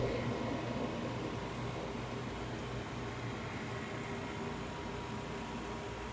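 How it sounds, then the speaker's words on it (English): A rotary evaporator running under vacuum gives a steady, broadband mechanical hum and hiss, like a fan or pump, that continues evenly throughout with no talk. "Evaporator."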